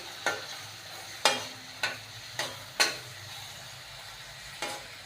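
A spoon stirs onion, asafoetida and salt in a pan for bitter gourd sabji, giving about six sharp scraping clinks at uneven intervals over a steady low sizzle, with no talking.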